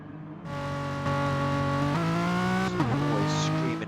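A Renault Megane Trophy race car engine in a racing video game holds a steady tonal drone, then revs up through gear changes and dips once near the end, loud and continuous.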